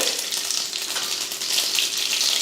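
Mustard seeds and cumin crackling in hot oil in a kadai, a dense steady sizzle with fine popping, close and unbroken, no voices.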